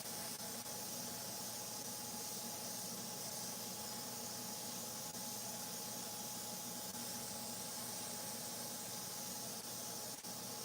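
An airbrush sprays clear coat onto chainsaw-carved wooden pieces, producing a steady, close, unbroken hiss with a faint whine that runs evenly throughout without any talk.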